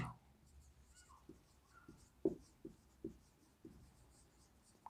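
A pen writes numbers on paper during a maths lesson. It makes several soft, brief scratches and taps in an irregular rhythm, close by, under faint background talk.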